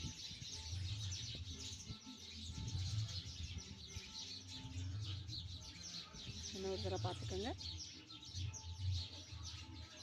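Sparrows chirp from inside a tree at Kodaikanal, a brief burst of fairly faint tweets standing out over outdoor ambience and a low hum while someone talks nearby.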